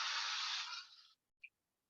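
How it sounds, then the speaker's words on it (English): General purpose spray adhesive hisses from an aerosol can onto fabric in one steady burst lasting about a second, then fades out, followed by a faint single click in the near silence. "And of course, spray your other piece as well."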